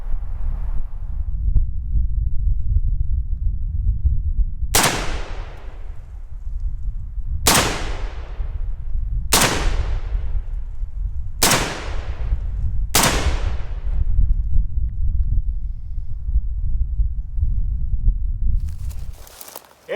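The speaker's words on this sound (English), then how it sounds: "I'll see how the PTR 91 does firing it from a standing position at this distance." Five loud, sharp rifle shots from a PTR 91, an HK91 clone, fired standing at an outdoor range at 25 yards, spaced about two seconds apart, each with a quick ringing decay over a low wind rumble.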